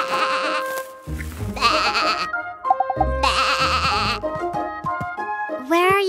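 Cartoon sheep bleating in a children's nursery-rhyme cartoon, several wavering bleats in turn over bright background music, loud and close.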